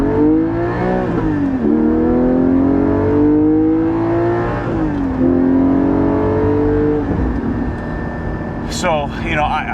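A Porsche 718 GT4 engine revving on the road, a deep, throaty note that climbs and falls through several gear pulls. Someone talks over it throughout, and a brief higher clatter comes near the end.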